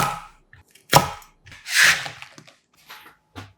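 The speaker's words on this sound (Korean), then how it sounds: "꽈리고추 150g은 먹기 적당하게 작은 것은 그대로, 큰 것은 반으로 잘라주세요" A knife cuts shishito peppers on a cutting board, with sparse, irregular, close knocks and a brief scraping swish between them.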